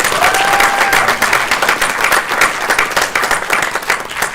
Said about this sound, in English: join me in a nice round of applause and recognition